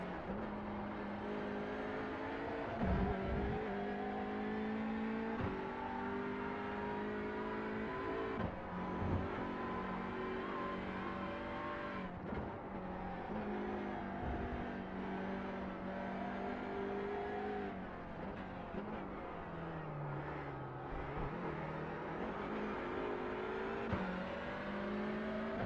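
A race car in Grid Rivals, running on worn-out tyres, drones steadily at high revs through corners, its engine pitch rising and dipping with light brake dabs and gear changes, loud and continuous with no talk.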